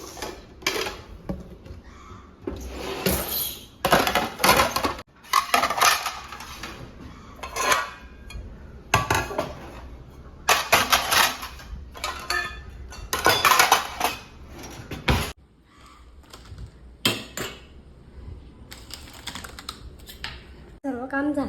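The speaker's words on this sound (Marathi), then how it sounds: "आता पटापट भांडी लावून घेत आहे." Dishes, pots and utensils being put away in a home kitchen make bursts of clinking, clattering and knocking, irregular and close, separated by short quiet gaps, with faint voices at moments.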